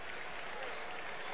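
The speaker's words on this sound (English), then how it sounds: "giving their wrestlers a round of applause there" Crowd at a college wrestling match applauding both wrestlers, a brief continuous patter of clapping from the arena stands with a commentator's voice mixed in.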